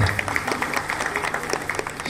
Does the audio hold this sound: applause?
yes